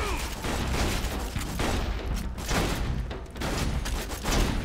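Enemy gunfire from Borderlands 2 on Xbox One, a dense continuous clatter of shots and impacts filling the whole stretch at steady loudness, with no talking over it.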